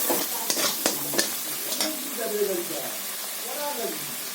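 Onion, ginger and cumin paste frying with spices in a pan, stirred with a few sharp scrapes early on, then a steady soft sizzle.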